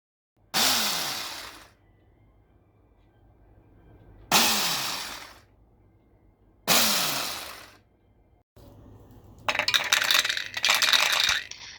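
Moulinex Steelforce hand blender with food processor attachment running in three short bursts, each a loud whirring whine that winds down, followed by a longer grinding, rattling run.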